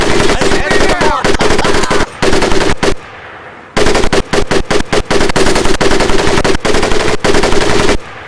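Rapid bursts of Tommy gun fire from a World War II Pacific shooter, loud and continuous automatic volleys with a short pause before another long string of shots.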